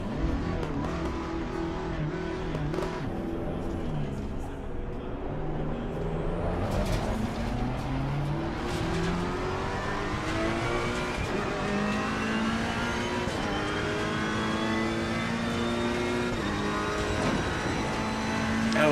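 A race car engine in Assetto Corsa Competizione revving continuously, its pitch climbing and dropping through gear changes with a loud, sustained, close roar.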